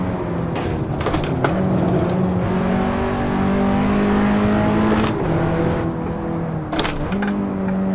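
An Audi S1 Quattro engine revs hard in Assetto Corsa on the Nordschleife, a loud continuous drone that rises through the gears with brief drops at shifts, close and alone without talk.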